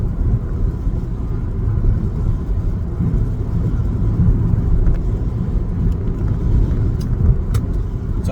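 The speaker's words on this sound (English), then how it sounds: "So I drive down the road." A car driving down the road, heard from inside as a steady low rumble and road noise that holds evenly throughout, with a few faint ticks toward the end.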